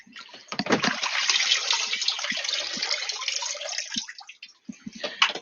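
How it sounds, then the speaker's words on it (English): Water pours and drains steadily into a bucket or basin with a continuous rushing, gurgling sound, broken by a few light knocks and clunks near the end. "Drain the water."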